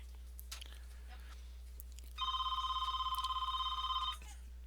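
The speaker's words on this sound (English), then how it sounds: "my phone's ringing in the background" A telephone rings in the background, a single long electronic trill that starts partway through, holds for about two seconds, then stops, faint against a low steady hum in a quiet room.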